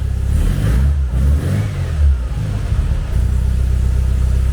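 A classic Volkswagen Beetle with an EFI engine idles close by, a steady low rumbling drone with slight unevenness and no voices.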